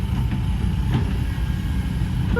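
A tractor works a dirt road, its diesel engine chugging in a steady, low rumble that stays close and fairly loud throughout, with no talking.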